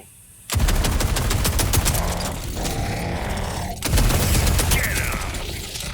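Weapons fire in the shooter game Borderlands 4: two long, loud bursts of rapid automatic gunfire, briefly broken by a short gap, with mechanical clatter between the shots.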